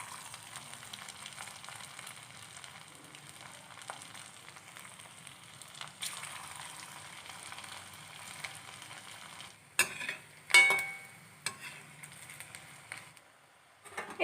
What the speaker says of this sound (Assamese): তেলখিনি গৰম হোৱাৰ পিছত মই মিশ্ৰণখিনি হাতেৰে অকণমানকৈ বহাই দিছোঁ